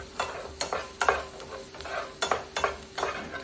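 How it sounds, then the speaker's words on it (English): A utensil stirs a sauce mixture containing Worcestershire in a pan, with quick rhythmic scrapes and clinks over a faint sizzle, close and without talking. "Let's have a little stir of this first."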